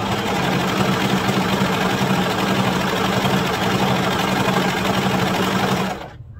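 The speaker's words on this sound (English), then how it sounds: "I kind of just sew a little bit and adjust." Sewing machine stitching double brushed fabric pajamas, a loud continuous mechanical whirring hum running steadily for about six seconds before stopping abruptly.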